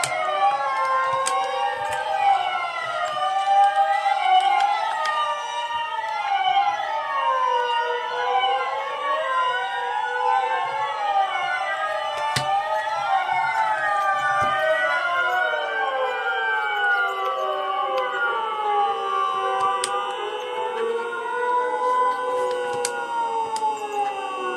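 A fire alarm blares loudly and continuously, its layered wailing tones sweeping up and down in overlapping cycles with steady high pitch and no pauses, close and piercing throughout.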